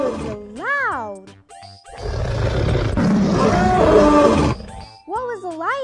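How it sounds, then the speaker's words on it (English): A lion gives a loud, drawn-out roar lasting about two and a half seconds, heard during a children's English lesson on animals and action words, with a teacher speaking before and after it. "The lion is roaring!"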